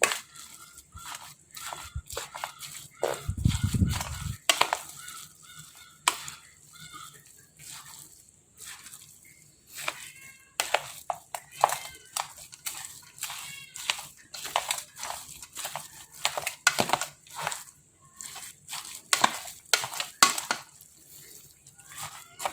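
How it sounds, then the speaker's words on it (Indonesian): Spiced rice mixed with raisins being stirred by hand, producing repeated close scraping and crunching strokes in irregular bursts, with a brief low thud early on. "Kita aduk rata ya."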